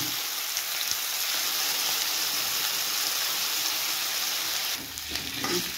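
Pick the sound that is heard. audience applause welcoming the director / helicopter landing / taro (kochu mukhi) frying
taro (kochu mukhi) frying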